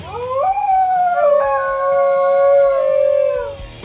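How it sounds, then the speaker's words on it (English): A wild Australian dingo gives a single long, loud howl that rises, holds a steady wavering tone and then slides down at the end, close by and with no other sound. "Number 10. Dingo."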